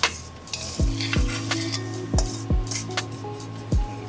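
Cooked macaroni is tipped from a pot into a lightly greased baking dish for beef jerky mac and cheese, with close, repeated metal scrapes and clanks at a steady rhythm and no talking.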